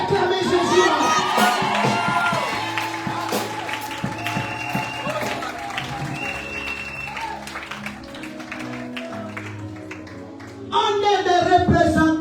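A church congregation at a praise and worship service cheers, claps and shouts in acclaim of Jesus over sustained music, a loud, full crowd roar that swells again near the end.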